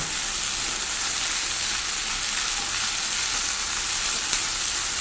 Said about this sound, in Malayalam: ഇനി നമുക്ക് കുറച്ച് പച്ചക്കറിവേപ്പിലയും കൂടി ഇട്ട് കൊടുക്കാം